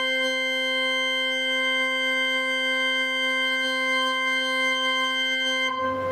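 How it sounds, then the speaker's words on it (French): A pipe organ's plein jeu mixture stop, slightly out of tune, holds one steady bright chord that wavers faintly for about six seconds and then cuts off abruptly, with no voices. "C'est le son d'orgue qu'on connaît en règle générale."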